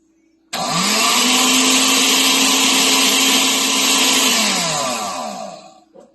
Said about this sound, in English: Okay, I've put my pineapples in my blender. I'm going to blend them up.